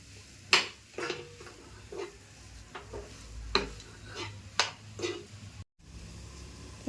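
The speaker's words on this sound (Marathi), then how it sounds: "आता हे सगळं मस्त असं एकजीव करून घ्यायचं सगळं." A spoon stirs and mixes stuffing for stuffed capsicum chillies in a pan, giving a series of separate scraping, clinking strokes spaced a second or so apart, fairly close and quiet, with one brief dropout near the end.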